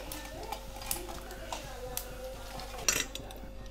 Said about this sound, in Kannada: ನಾವು ಇದನ್ನು ಒಂದು ಮಿಕ್ಸಿ ಜಾರ್ಗೆ ಇಲ್ಲಿ ಟ್ರಾನ್ಸ್ಫರ್ ಮಾಡುವ ಇದನ್ನು